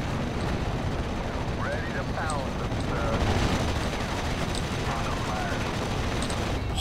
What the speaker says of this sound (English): Holy fucking ammo barrage over there